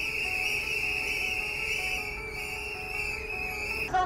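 Whistles blown at a vigil in Hong Kong, a steady high-pitched tone held for several seconds over a constant background of crowd noise.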